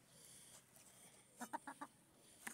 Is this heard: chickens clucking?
yes